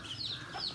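Hens and chicks of a native country chicken breed cluck and peep softly around a water bucket and feed, short chirps rising twice over a quiet farmyard background.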